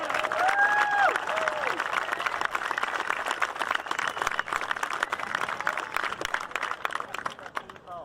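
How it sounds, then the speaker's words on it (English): A crowd at a senior all-star game applauds and cheers two state champion coaches, a steady broadband roar of clapping lasting throughout and fading slightly near the end, with whistle-like tones and voices mixed in early. "Give them a round of applause."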